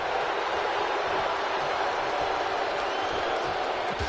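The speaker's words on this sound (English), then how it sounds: "The fans they are booing that ref." Loud crowd at a live wrestling event booing the referee, a dense continuous roar of many voices filling the hall without pause.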